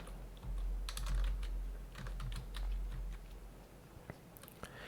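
Keys clatter on a computer keyboard as a sudo command is entered for an Ubuntu desktop install, with irregular nearby clicks and short bursts of typing over a low background hum.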